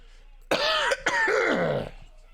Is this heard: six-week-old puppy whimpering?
no